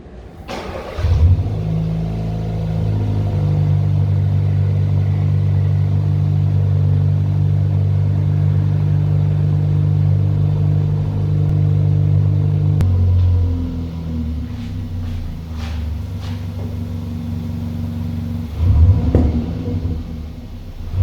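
A 2020 Kia Cerato GT's engine fires up with a loud rumble and surging revs, settles into a steady close idle, then a brief second rev flares near the end, with faint interior clicks between.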